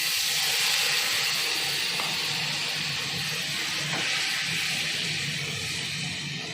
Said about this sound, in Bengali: এটা জল ঢেলে দেবো, এবারে আর কষাবো না